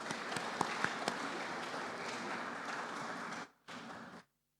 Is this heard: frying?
no